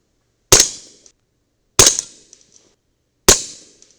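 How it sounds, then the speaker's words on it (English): Three 300 BLK subsonic rounds fired from a CMMG rifle with an 8-inch barrel, each a sharp close crack followed by a short decay, evenly spaced about a second and a half apart with silence between. "let's shoot 3 more of the subs"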